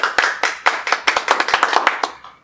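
A studio audience claps to welcome a guest onto a Brazilian interview show, a burst of about a dozen sharp, close, rapid hand claps over two and a half seconds before tapering off, no voices.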